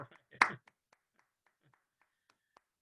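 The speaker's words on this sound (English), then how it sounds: "It feels a little weird to be the only person clapping." A single person claps after a talk, a burst of loud claps at first trailing into a few sparse, faint taps with silence between.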